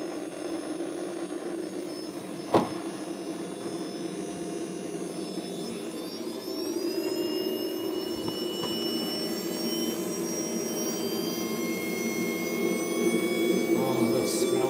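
Twin-engine Su-30 radio-controlled model jet turbine running up outdoors at night, a steady loud whine with high tonal lines rising in pitch as the turbine spools up, over a continuous roar, with brief clicks.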